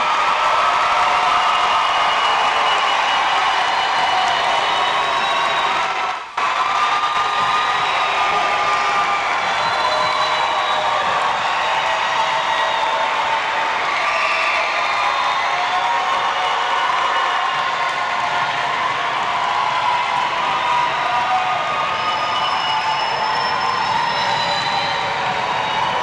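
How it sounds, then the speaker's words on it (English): Audience at a middle school promotion ceremony for the class of 2030 applauding and cheering, a sustained wash of clapping with whoops and shouts, steady and fairly loud throughout. "Let's give one more loud round of applause to the class of 2030."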